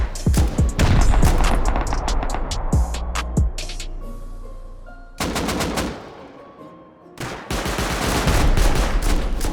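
Automated base turret opens fire in a video game raid, loud rapid bursts of machine-gun fire with sharp shots, a short lull, then sustained dense gunfire and booms resuming, no talk.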